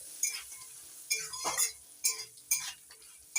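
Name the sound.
stir-frying dry fruits with salt in a pan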